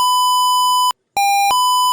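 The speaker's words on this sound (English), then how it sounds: "See the buzzer has started making sound" A loud, steady piezo buzzer tone driven by an Arduino board, close by, breaks off briefly, then resumes at a slightly lower pitch before returning to the original tone.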